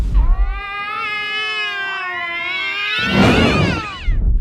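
Cats in a Simpsons cartoon episode let out a long, drawn-out yowl that wavers in pitch, then breaks into a louder, harsher screech near the end, loud and close with nothing else behind it.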